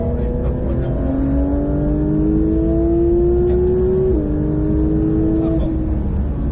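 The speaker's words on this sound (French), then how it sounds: "Et d'ici, on commence à réaccélérer de manière progressive" A Porsche 911 992 GT3 accelerates steadily on the Mettet track, a close, sustained engine note rising smoothly with a brief gear-change dip, heard from inside the car.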